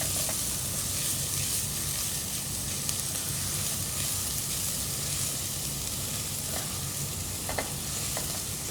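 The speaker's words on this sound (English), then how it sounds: "I'm going to let the onions cook in the oil till the liquid starts separating" Onions with garlic frying in oil in a pan for a homestyle chicken curry, a steady, even sizzle and hiss that runs without a break, with faint occasional stirring clicks.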